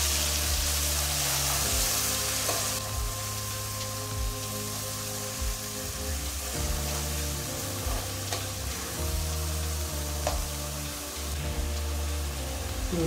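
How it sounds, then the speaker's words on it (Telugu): Chopped onion fries in hot oil for a crab curry, a dense steady sizzle with crackling spatter and occasional stirring scrapes, close and continuous without talk. "ఉల్లిపాయ వేగింది కదండి"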